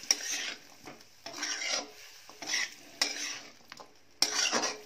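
Vegetable curry being stirred in a pan after lemon juice is squeezed in, five or six separate scraping, rasping strokes of a spoon against metal with short pauses between them, close and clear.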